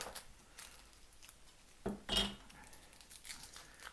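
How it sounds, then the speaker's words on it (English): A kitchen knife slices the ends off garlic cloves on a cutting board, producing two quick, close, sharp taps in an otherwise quiet scene. "So I slice off the ends of each clove"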